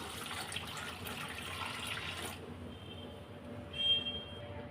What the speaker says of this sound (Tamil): இப்போ பருப்பு வேகிற அளவுக்கு தேவையான அளவு நம்ம தண்ணி சேர்த்துக்கலாம்